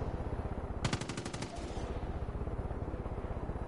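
Rapid burst of sniper-style gunfire in the game Far Cry 5, a loud run of sharp cracks lasting under a second amid a dense, busy game soundscape.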